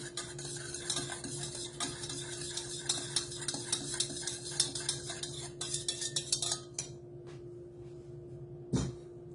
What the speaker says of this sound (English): Go ahead and give that a whisk and then set it aside.